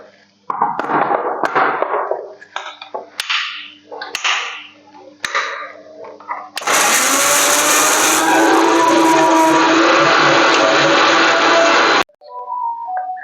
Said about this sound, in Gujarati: સેજમથું પાણી નાખી દઈશું ક્રશ કરી નાખશું